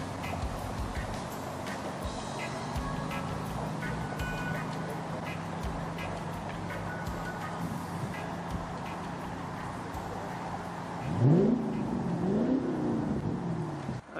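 A 1978 Mark I Vauxhall Cavalier 2-litre GL engine runs steadily at a classic car show, a continuous motor drone with a louder surge near the end, mixed with background crowd noise.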